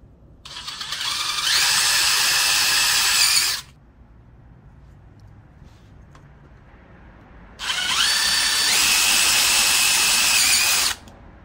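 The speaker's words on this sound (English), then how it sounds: "Next thing I'm going to do is I'm going to screw the screw into this PVC coupler." A power drill drives a screw into a PVC coupler in two loud, close bursts of high whirring, each lasting a few seconds, separated by a quiet pause.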